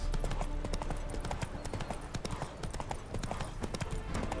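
Horse hooves clip-clop in a steady, fairly close rhythm in The Witcher 3 during the Hearts of Stone expansion, holding an even loudness from start to finish with no voices over the hoofbeats.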